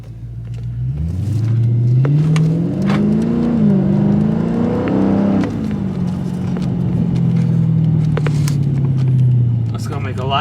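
A car is driven while a diagnostic tool runs, its engine note climbing and settling through a sustained accelerating rumble and whir heard close up from inside the cabin, loud throughout.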